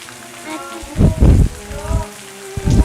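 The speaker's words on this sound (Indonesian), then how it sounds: "Sambil hujan-hujanan, mereka datang ke rumah Dok." Steady cartoon rain patters on the ground as children travel through a downpour, with a soft musical bed and a few louder low thumps breaking through the wash.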